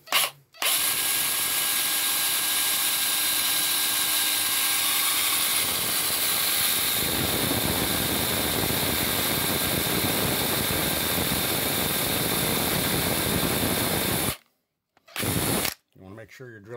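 A hand drill bores steam holes in a 400 small-block Chevy aluminum cylinder head, running continuously at high speed for a long stretch, loud and close, its tone roughening partway through, then cutting off with a brief final burst.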